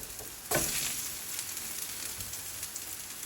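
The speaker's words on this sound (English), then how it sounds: "Oh, listen to that sizzle." Eggplant steaks hiss and sizzle steadily in a hot frying pan, with a louder burst of sizzle as one is laid in, then a constant crackle.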